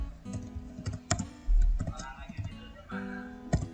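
Keys tapped on a computer keyboard while entering chart data in Microsoft Word, a run of close, uneven clicks with a low hum and faint background noise, no talking.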